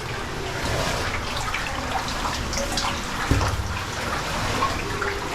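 An underground waterfall flows inside a cave, a steady, moderately loud rush of falling water that stays even throughout, with no talking.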